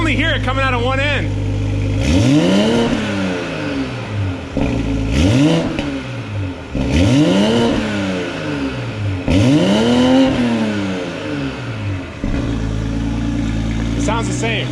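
A Toyota Supra fitted with a Boost Logic cat-less downpipe exhaust revs up in several repeated sweeping bursts, each climbing and falling sharply. The engine settles between pulls, and voices talk over parts of the sequence.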